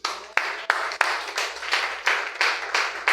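Congregation clapping and cheering for Jesus during a church service, a burst of applause with sharp clap onsets and sustained crowd noise throughout, fairly close and loud with no speech.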